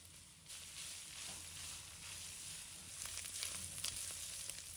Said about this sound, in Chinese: 炒香后，五花肉放入锅中